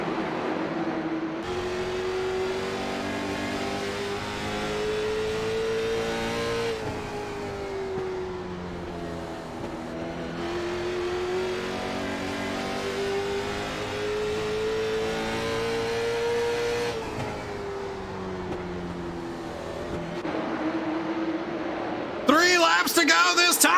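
Late model race cars circle Myrtle Beach Speedway, a steady loud engine drone rising and falling as the pack laps, with brief shifts in pitch and a sharp burst near the end.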